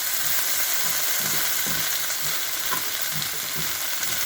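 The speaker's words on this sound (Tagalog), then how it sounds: "Itong patatas na to guys, may halong ano na to, sibuyas at bawang. Pinakuluan sa mantika." Potato pieces with onion and garlic fry steadily in hot oil, giving a continuous close sizzle with soft stirring taps, with no talking.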